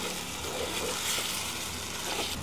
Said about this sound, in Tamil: தக்காளி பழம் நல்லா வதங்கி எண்ணெய் வந்து வேறையாக பிரிஞ்சு வருது பாருங்கள்